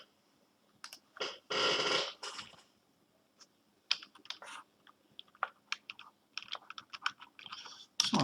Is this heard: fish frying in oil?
no